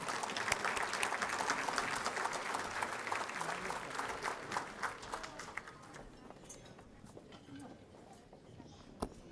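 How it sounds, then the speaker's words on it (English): A State of the City audience claps, dense applause that carries for about six seconds, then tapers off into scattered last claps and room quiet. "Let's give her another round of applause"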